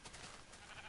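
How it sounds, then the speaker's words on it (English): A Minecraft sheep bleats once, a brief faint wavering cry heard alone at low volume. "There are sheep and a cow."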